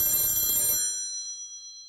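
A telephone bell rings in a bright, shrill burst that cuts off abruptly, leaving a ringing tail that decays over the next second; no one speaks.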